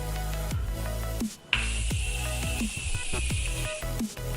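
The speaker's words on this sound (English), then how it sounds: "I'm gonna quickly set the face with the Morphe Setting Spray." A sustained airy hiss of Morphe setting spray lasting a couple of seconds, partly masked by steady background music playing throughout.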